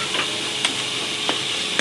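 Whole cloves, cinnamon stick and bay leaves fry in hot oil for a karahi, a steady close sizzle with occasional stirring scrapes and clicks, no talk.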